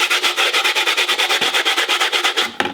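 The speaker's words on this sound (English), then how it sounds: "I'm just going to grate it with my soap grater," A bar of soap is scraped across a cheese grater in quick, even strokes, a rhythmic rasping at roughly eight passes per second, close and clear, with a small knock as the grating stops.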